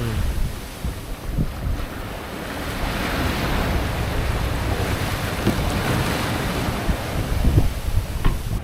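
Rough seas crash and rush around a sailboat running fast downwind off Baja, with heavy wind buffeting the microphone. Loud, continuous surf and spray churn throughout.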